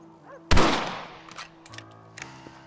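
A single loud rifle shot in the Red Dead Redemption game cracks out near the start, followed by fainter clicks and thuds of handling with a low ambient hum.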